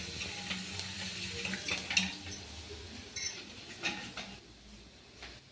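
Cumin seeds dropped into hot oil in a pan give a quiet, close sizzle scattered with crackles and pops, plus light clinks of a utensil against the pan.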